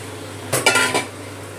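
A metal spoon stirs a pot of fish roe fritter curry with potatoes, producing a short run of three or four loud, close clinks and scrapes against the pot, then quiet.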